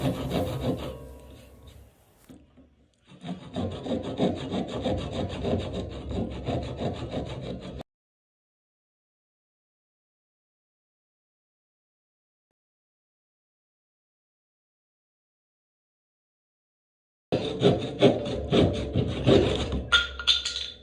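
Close, rhythmic back-and-forth strokes of a handsaw cutting through wood, a rasping scrape that runs for several seconds, breaks off into silence, then starts again near the end.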